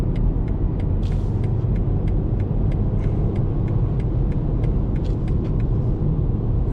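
BMW 118i from 2020 cruising at 80 km/h, a steady low road and engine rumble filling the cabin with constant tyre and wind noise, plus faint regular ticking clicks over it.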